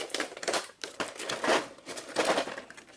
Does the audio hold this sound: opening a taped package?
yes